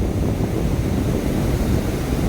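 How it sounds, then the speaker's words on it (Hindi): Ocean surf rolls onto Udupi beach on India's coast while wind buffets the microphone, giving a dense, steady roar of crashing waves and gusts that continues without pause. "ये सभी लहरें बहुत डेंजर बन रही हैं"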